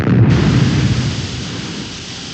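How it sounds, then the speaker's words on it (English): Retro rockets firing on the Supercar puppet craft, a steady loud roaring rush with deep low rumble that holds throughout, slightly easing toward the end, with no talk over it. "Fire the retro rockets."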